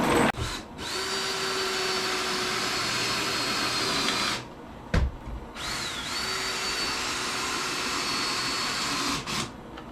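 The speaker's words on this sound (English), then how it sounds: "So I'm going to screw this on from the bottom so I don't see any holes in the top." Power drill driving screws up through the underside of a wooden farm-style coffee table top, two long whirring runs of several seconds each, close and fairly loud, separated by brief pauses.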